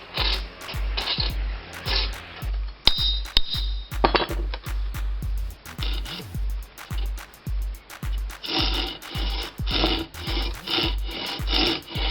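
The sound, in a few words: filing the teeth of a Japanese saw to sharpen it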